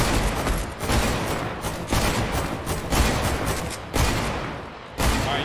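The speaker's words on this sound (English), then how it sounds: "They're shooting another team." Rapid bursts of gunfire in the battle royale game Fortnite, dense repeated volleys with brief pauses between them, loud and close throughout.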